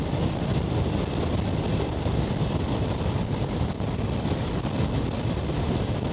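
Harley-Davidson Iron 883 motorcycle cruising at highway speed, heard as a steady, loud broadband roar dominated by wind rush with the engine's drone buried underneath, continuous and unchanging throughout.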